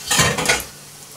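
A spatula scrapes under a pancake and flips it in a pan, making two quick close clattering scrapes in the first half-second before the sound settles to a quiet hiss.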